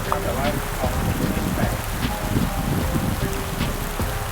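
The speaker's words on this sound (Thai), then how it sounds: "ฝนก็ตกนะครับ" Steady rain falling on surfaces at an abandoned temple in Ratchaburi, a dense continuous patter with scattered louder drops, fairly loud and close throughout.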